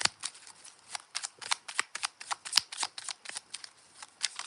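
A deck of tarot cards is shuffled for a reading: a fast, close, crisp run of riffling snaps and flicks in irregular clusters, with no voice over it.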